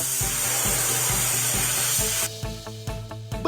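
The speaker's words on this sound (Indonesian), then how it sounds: "Geser pistol semprot ke tempat yang tepat" A spray gun hisses continuously with rhythmic tapping underneath while paint is sprayed on a scratch on a police car in a children's animation, then the hiss cuts off, leaving only intermittent knocks.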